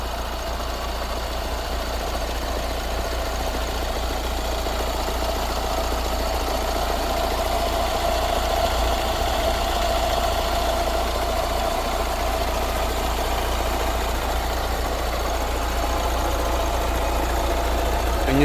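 A Hyundai i20 Asta CRDi 1.4 diesel engine idles up close with a loud, even, low diesel rumble and light clatter that holds steady throughout.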